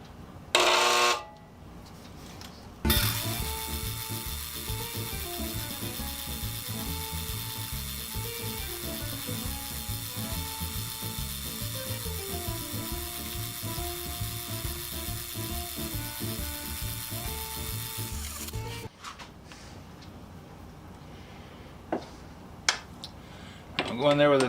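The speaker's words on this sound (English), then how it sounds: "we're ready to center drill" A machine runs steadily for about fifteen seconds with a rhythmic, grinding mechanical whir as metal is center drilled for a band saw pivot hole, then stops, leaving faint clicks and clatter.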